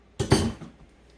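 A metal lid set onto a pot of black bean chili gives a single quick clatter and clink up close, ringing briefly before fading into quiet.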